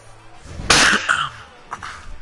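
A single sharp human sneeze, close and loud, a quick intake followed by a bright burst, then faint background chatter and a small throat noise afterward.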